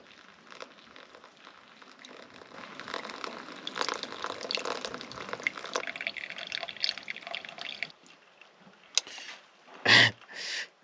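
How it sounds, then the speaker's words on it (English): Blazing hot water pours from a pot over a cup of noodles at a dispersed desert campsite near Vegas, a steady splashing trickle that fades, followed by a couple of brief louder splashes near the end. "I'm gonna throw the blazing hot water on the cup of noodles first, get them cooking."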